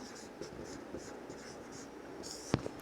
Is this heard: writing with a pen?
yes